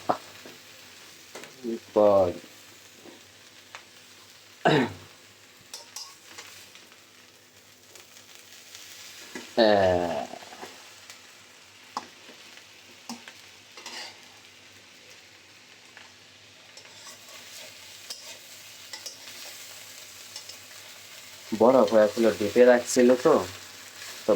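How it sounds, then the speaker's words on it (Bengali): Leftover food reheating in a home kitchen pan gives a faint, steady background sizzle, broken by a few brief scraping stirs, with short stretches of speech that sound like talking. "আপনাদের আপু হলো খাবার গরম করতে দিছে"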